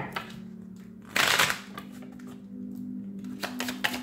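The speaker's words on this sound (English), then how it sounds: "One more shuffle." Tarot cards are shuffled in a quick riffle, a short burst of crisp fluttering snaps over a low steady hum, with a few soft taps afterward.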